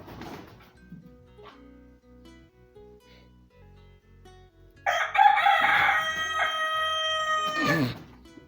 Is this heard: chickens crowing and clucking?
yes